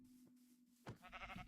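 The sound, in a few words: sheep bleating in Minecraft video game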